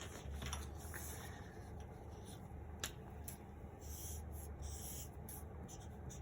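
A pen scratches across paper while sketching a free body diagram for a physics vector problem, with soft, steady writing strokes and occasional brief scrapes, close and fairly quiet, without talk.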